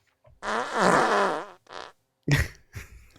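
A soundboard fart sound effect plays a long, loud, wet, rippling blast followed by a shorter sputter, then a sharp punchy burst and a trailing spurt, all close and alone.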